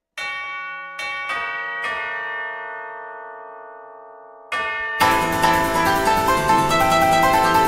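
Bells play a simple part in a music composition: several struck bell tones ring out and slowly decay, then a denser, busier layered passage of instruments takes over. No voices.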